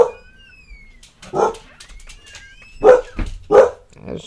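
Several dogs bark in agitated, irregular bursts indoors while strong wind shakes the house, the loudest barks coming close together near the end.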